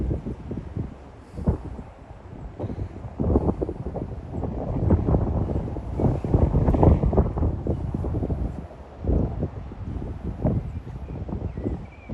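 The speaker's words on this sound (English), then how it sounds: "Heavy windy at the moment." Heavy wind buffets the microphone in a steady, loud low rumble that surges and eases, with faint traffic from a busy motorway likely blended underneath; no one speaks.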